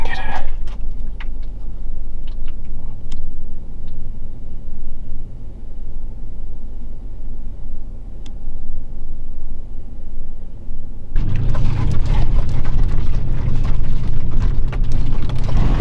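A truck in four-wheel drive grinds up a rocky backcountry incline, its engine a steady low rumble that swells into a louder, rougher roar with crunching and scraping near the end.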